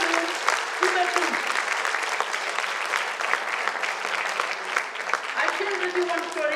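An audience at a health talk applauds, a continuous, moderately loud wash of many hands clapping together with a few voices mixed in, holding steady throughout.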